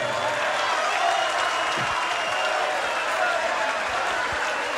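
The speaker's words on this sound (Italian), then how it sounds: "Un applauso." Concert audience at a live show applauding steadily, a dense wash of clapping and crowd noise that holds at an even level throughout.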